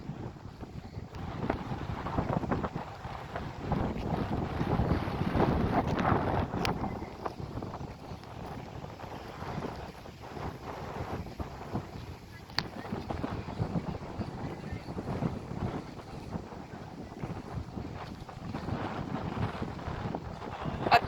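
Strong gusty wind blows across Dudhani lake in May under rainy weather, buffeting loudly and unevenly in long surges with no voices.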